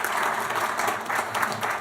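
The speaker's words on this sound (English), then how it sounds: "you can save your applause till the end" Applause from an audience at a school board meeting honoring a senior student, steady dense clapping throughout, moderately loud and close.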